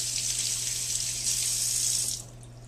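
Hot tap water streams steadily into a kitchen sink while a tomato is washed, a loud close hiss over a low electrical hum that stops abruptly near the end.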